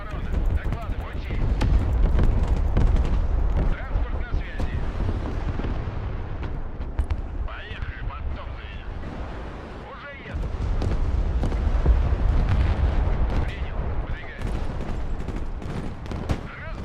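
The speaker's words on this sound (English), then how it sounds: "Lancer cruise missile spam coming in." Heavy, continuous rumbling explosions from Lancer cruise missile strikes in the Broken Arrow war game roll on without a break, with a short dip midway before the barrage resumes at full strength.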